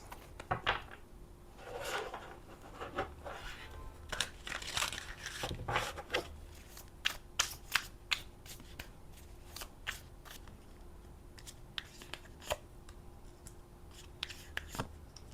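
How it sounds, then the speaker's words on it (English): Tarot reading cards being shuffled and handled, a long run of crisp snapping riffles and soft slides close by, irregular bursts with brief pauses and no speech. "let me just get some more cards for this"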